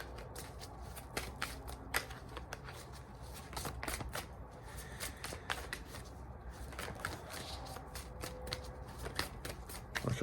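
A deck of animal oracle cards is shuffled close up, with soft repeated riffling and flicking bursts at an irregular rhythm, quiet and alone.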